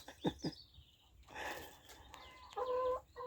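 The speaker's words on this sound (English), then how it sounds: "Crazy chickens" Several chickens cluck and squawk in short bursts as they run after the same scraps of food, with intermittent calls close by and a few sharper cries toward the end.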